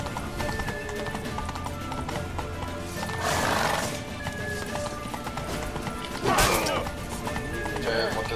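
Horse hooves clip-clop at a run with two loud neighs, one near the middle and one toward the end, in The Witcher 3, with game music and effects underneath and some talk.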